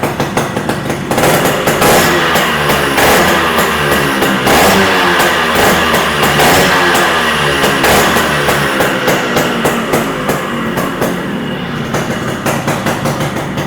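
A restored vintage motorcycle engine idles with a loud, steady, rapid thumping exhaust note, close by and continuous throughout with no talking.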